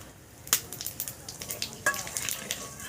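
Dried red chillies, bay leaves and a little cumin crackle and sizzle in hot oil for a tempering, with sharp pops near 0.5 and 1.9 seconds over a steady close frying hiss.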